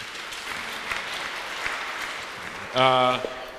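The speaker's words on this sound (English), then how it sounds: "Applause, please." Audience applause at an open data conference, a moderate, even wash of clapping from a seated crowd, joined near the end by a brief loud tonal sound over the claps.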